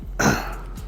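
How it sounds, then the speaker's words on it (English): A single short cough, close and sharp, with a faint breath after it and no speech. "I was coughing."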